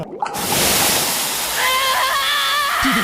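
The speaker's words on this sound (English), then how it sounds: "That's some boiling water?" Loud, continuous roiling water with broadband rushing and bubbling, the boiling-water effect from an anime fight scene, a brief whistling tone rising partway through.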